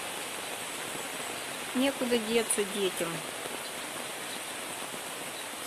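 Pouring rain hisses in a steady, even wash outdoors. A person speaks briefly over it in the middle.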